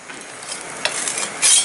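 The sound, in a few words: tilapia fish frying in pan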